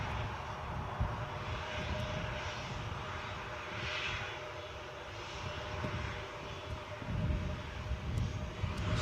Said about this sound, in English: Blast off the jet engines is coming straight back onto the position,